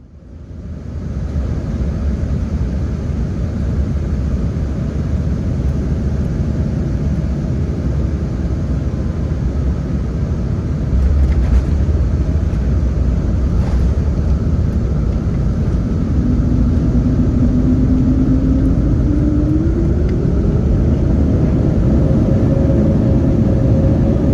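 A Porter Embraer E2 jet landing on runway 05 at hazy Toronto Pearson, heard from inside the cabin as a loud, constant engine rumble and roar, with a rising whine toward the end as the aircraft slows.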